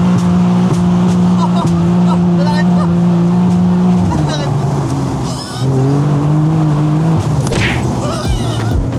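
Powerful new 130k€ car, quicker than a stock BMW M4, accelerating hard through the gears, its loud engine note climbing then dropping at each shift, up close with people talking over it.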